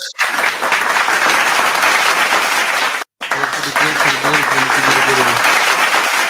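Applause plays as a sound effect on a sports podcast, a loud, dense crowd clapping that runs almost throughout with a brief cut partway, while someone talks over it in the second half.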